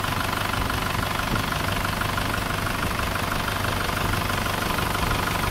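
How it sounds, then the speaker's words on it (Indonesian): An Isuzu Panther diesel engine idles with a leaking exhaust, giving a close, steady, rough drone that runs unbroken throughout with no talking. "knalpotnya masih bocor paknya, tapi nanti kita ganti."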